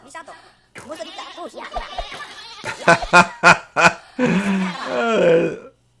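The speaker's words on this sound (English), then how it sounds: "Let's take us out one of these hostile, aggressive goats here." Hostile goats in modded Minecraft bleat in a series of loud, close, wavering cries, several calls in quick succession with short gaps, while someone talks over the start.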